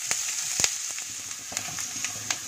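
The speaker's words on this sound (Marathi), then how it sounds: "यामध्ये कांदा घालूया आणि कांदा मऊ होईपर्यंत सोनेरी रंगावर मंद गॅसवरती भाजूया" Onion frying on a low flame, a soft steady sizzle with scattered light crackles and a few spatula taps, fairly quiet and close.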